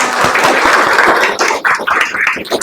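Students in an Indonesian school classroom clap their hands together after singing, a loud, dense burst of applause that thins into scattered, uneven claps toward the end.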